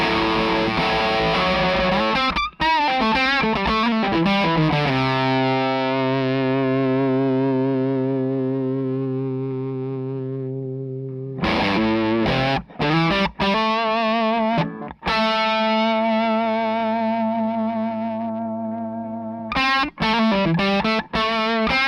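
Electric guitar through a Fredric Effects Utility Perkolator fuzz pedal with no clipping diodes, loud and less compressed, alternating quick choppy strums with long ringing chords that slowly decay, then more bursts of playing.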